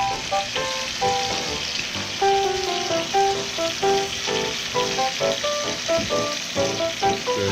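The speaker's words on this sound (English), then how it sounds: "to like pan fry or fry just the surface is sofreír" Onion slices sofreír, lightly pan-fried for escabeche in Belize, give a steady bright sizzle with occasional stirring, while tonal melodic music plays over the top throughout.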